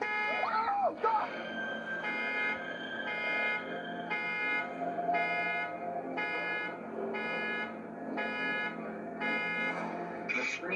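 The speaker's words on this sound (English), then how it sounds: "the car alarm goes off" A car alarm blares outside at night, a repeating series of loud electronic tone bursts pulsing evenly for several seconds, with startled voices briefly audible near the start and end.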